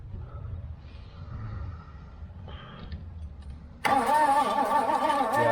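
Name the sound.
1973 Pontiac LeMans engine cranking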